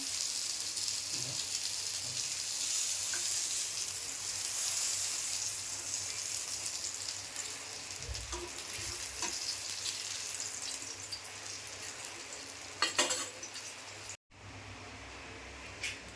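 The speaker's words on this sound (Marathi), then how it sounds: "झाले तळून एक बॅच आता मी काढून घेते आणि दुसरी बॅच टाकूया" A batch of surmai fish frying in a pan, a steady sizzle and crackle throughout, with a few clanks of utensils near the end and a sudden brief drop before the sizzle resumes more quietly.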